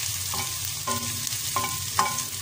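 Chopped ginger and garlic frying with onions in a pan for a restaurant-style mixed vegetable sabzi, a steady close sizzle with a few stirring scrapes, no talking.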